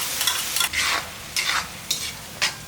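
Tomatoes are stirred into hot oil for a brinjal tamarind curry, giving a soft, steady sizzle broken by about five bursts of scraping and stirring, with no talking.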